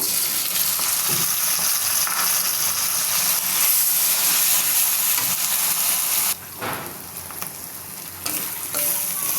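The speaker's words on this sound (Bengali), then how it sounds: "মশলাটা হালকা ভাজা দিয়ে নিচ্ছি।" A loud, continuous sizzle of ginger, garlic and cumin paste frying in a pan for a country chicken curry, with occasional stirring scrapes and hissing steam.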